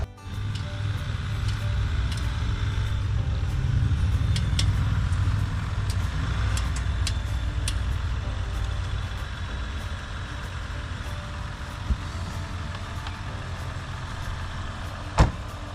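A Jeep idles steadily nearby while hooked up to hold back a towed army truck, its low engine rumble continuous with a few faint clicks and a sharp knock near the end.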